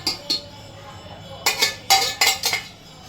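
Boiled dal goes into a cooking pot with a ladle, producing sharp metallic clanks and scraping knocks in quick clusters, close and fairly loud, separated by short quiet gaps.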